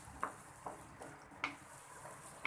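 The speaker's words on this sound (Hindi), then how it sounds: "2 मिनट तक आप इसको फ्राई करते रहें।" Egg and onion masala frying in a pan over medium flame, with a faint, soft sizzle broken by a few light stirring scrapes and clinks of a utensil against the pan.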